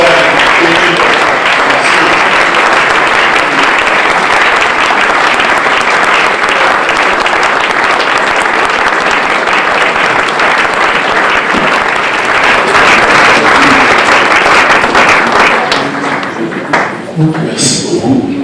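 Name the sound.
audience applause welcoming pastor Émile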